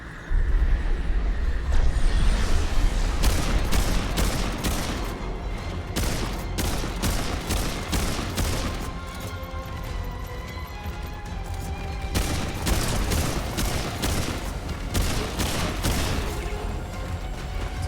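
Dense, sustained gunfire from the video game Remnant 2, loud and continuous with rapid overlapping shots and bursts throughout, mixed with booming impacts and no talking.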